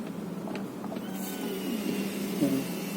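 A fuel injector runs on a homemade timer-controlled injector flushing rig, giving a steady, moderately loud mechanical buzz throughout with a faint whine near the end.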